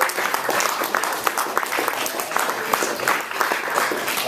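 Warm round of applause from guests at an award celebration banquet honouring the judges, steady crowd clapping with scattered sharper claps throughout.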